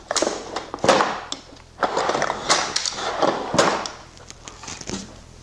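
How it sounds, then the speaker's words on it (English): A metal drawer slides back into a toolbox with a scraping, rumbling roll in several loud bursts and rattles, close up, with no talk. "I can finish the move by sliding the drawer back into the toolbox."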